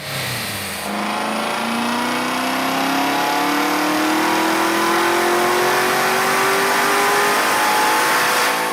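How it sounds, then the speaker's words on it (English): A real Corvette sports car engine revs up, its pitch climbing steadily and loudly over several seconds with a throaty, continuous roar. "Here's what the Corvette sounds like in real life."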